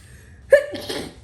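A single sharp sneeze bursts out mid-conversation, loud and close, followed by a short breathy tail before quiet returns.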